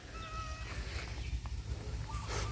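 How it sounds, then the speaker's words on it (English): A cat meows in short, wavering calls outdoors over steady background noise, near and fairly faint. "My cat is meowing at me."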